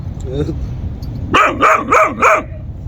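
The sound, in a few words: dog barking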